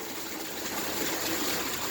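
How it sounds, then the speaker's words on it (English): At a sugar shack in Temple, NH, maple sap empties through a release tank valve into a tub below, a steady hissing rush of liquid, close and unbroken, with no speech. "it's going to open a valve on the bottom, and all the sap in here is going to be pushed out into the tub below"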